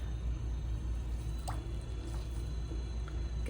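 Water is sponged out of the inside of a 2 lb clay cylinder on a VEVOR pottery wheel, giving soft wet squishes and a few faint drips over the steady low hum of the spinning wheel.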